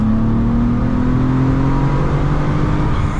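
A 2002 Ford Mondeo ST220 with a 3.0 V6 rated at 226 hp, running on winter tyres, gives a loud, steady engine drone that climbs slowly in pitch as it revs and accelerates, continuous throughout.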